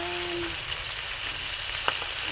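Pork leg (pata) frying in hot oil for humba, giving a steady broadband sizzle that stays even throughout, with a couple of brief louder pops near the end and no talking.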